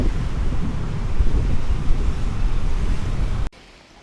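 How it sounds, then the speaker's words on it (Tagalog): Strong ocean waves at Sabang Beach in Baler, Aurora, make a loud, steady roar of surf mixed with wind buffeting the microphone, then drop away abruptly just before the end. "Ang lakas ng alon."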